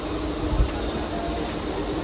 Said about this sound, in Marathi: सो आता ट्रेनमधून मी आता घरी जातो आहे.